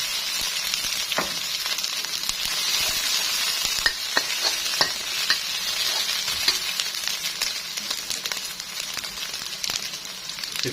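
Curry paste is stir-fried in a hot wok for a Thai spicy minced pork dish: a steady loud sizzle with scattered sharp scrapes and crackles of the spatula, close by and alone.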